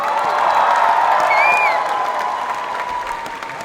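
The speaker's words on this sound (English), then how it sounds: "let's give Uki and Minnie another round of applause" A convention crowd claps for Uki and Minnie at a closing ceremony. The applause is steady and fairly loud for a few seconds, then slowly tapers off, with a faint whistle partway through.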